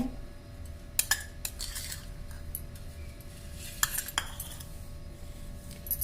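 A spoon adds chilli powder to gram flour and rice flour for chakali dough, clinking sharply a few times against a metal bowl over low, quiet background noise.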